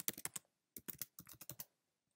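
Fingers tap out text on a computer keyboard in quick, close clicky keystrokes, grouped into short bursts with brief pauses between them.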